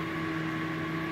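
A Multipro argon welding machine running on low household power after being switched on, giving a steady electrical hum with constant tonal whine, faint and unchanging.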